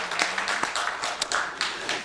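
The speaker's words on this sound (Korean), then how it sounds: "우리 하나님께 영광의 박수를 올려드립니다" A church congregation claps during a worship service, a short burst of scattered applause with uneven, overlapping hand claps at moderate loudness.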